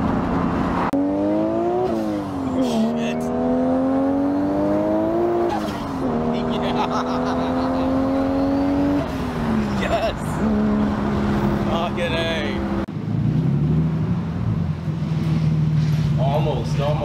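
A Nissan Skyline R33 GTS-t accelerating hard, its engine note climbing steadily and dropping back at each gear change, loud and close, with occasional voices alongside.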